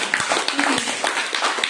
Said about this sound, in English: let's all give Millie a hand of applause